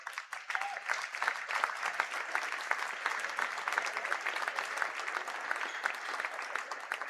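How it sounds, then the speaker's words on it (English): Steady applause from a crowd at a high school boys basketball game, moderately distant, sustained clapping throughout with no pauses. "If we can give them a round of applause."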